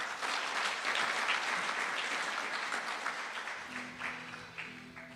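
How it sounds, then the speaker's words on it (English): An audience at a Sacco annual delegates meeting gives a round of applause, dense clapping that swells early then gradually thins and fades toward the end, with a faint voice starting underneath. "Another clap for Janet."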